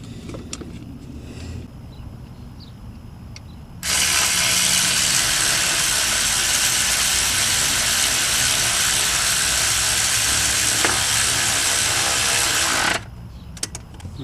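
A wrench tightening a starter bolt on a 2002–2007 Toyota Corolla gives a loud, steady mechanical rasp lasting about nine seconds, starting and stopping abruptly, with quieter workshop clatter before and after and no voices.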